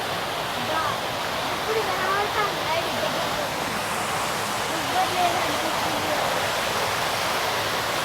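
Steady rushing water pours and splashes continuously from a park fountain at night at Komati Cheruvu dinosaur park in Siddipet, a broad wash of sound with faint voices and chatter in the background.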